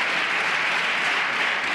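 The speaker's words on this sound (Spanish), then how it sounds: "ahí tenemos los aplausos de los socialistas al socialista" Steady, dense applause from the Socialist parliamentary group in a parliament chamber, continuous and even throughout, with no voices on top.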